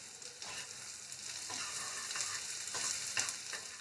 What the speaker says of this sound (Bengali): পেঁয়াজটাও ভাজা হয়ে গিয়েছে, পেঁয়াজটা শ্যালো ফ্রাই হয়েছে